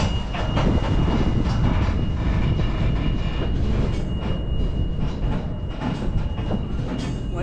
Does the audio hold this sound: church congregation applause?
no